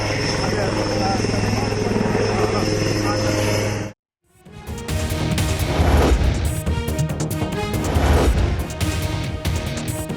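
A coast guard helicopter during a sea rescue of fishermen stranded for two days, its steady rotor drone loud and continuous, cut off briefly, then returning amid busier mixed noise and clattering.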